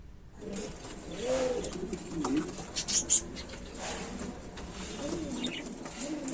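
Soft, low coos from a white King pigeon packed in a carton repeat a few times close by, mixed with faint rustling and muffled background sounds.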